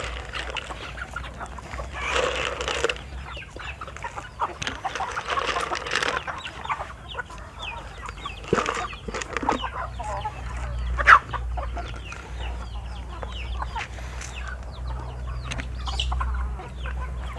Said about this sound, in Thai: นี่นะครับไก่ก็แยกย้ายกัน กินนะครับ